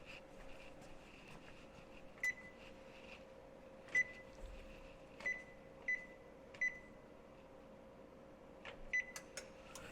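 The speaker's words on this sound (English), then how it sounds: "So I'm going to turn the oven on." An oven is switched on to preheat, giving a handful of short, faint electronic beeps spaced a second or two apart over a quiet, steady hum.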